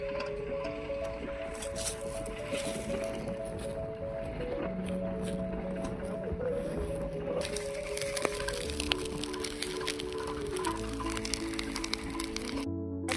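Crop waste burning in an open fire on a farm in cold, rainy weather, with dense crackling and popping under a steady roar, plus sustained tonal hums and brief rustling nearby.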